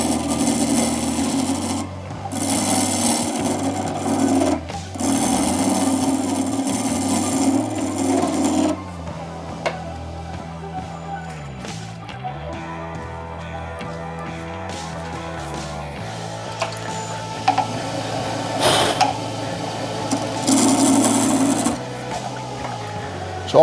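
A wood lathe trims a stabilised amboyna burl blank for a shaving brush handle, a steady rasping, scraping cut with a spinning hum that pauses briefly and resumes in several bursts, up close.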